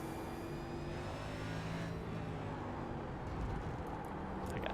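Steady engine drone and whirring tire scrub from a NextGen race car in the iRacing video game at COTA, continuous and fairly loud with no gaps.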